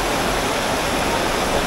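Heavy rain pouring down in Nha Trang, a steady, dense broadband hiss that holds at an even, loud level without a break.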